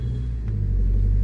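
A car rising on a hydraulic lift at a car wash makes a steady, loud low rumble with a motor hum that builds slightly and holds.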